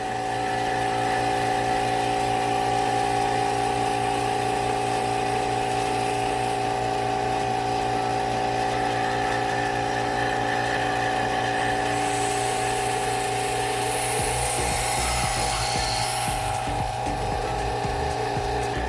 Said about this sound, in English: I have to release the valve so that the air can flow.